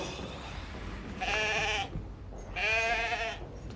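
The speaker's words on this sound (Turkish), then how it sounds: "bir koyun sesi duydum sanki" Two drawn-out sheep bleats, each about half a second long, separated by a short pause against a low, rumbling outdoor background.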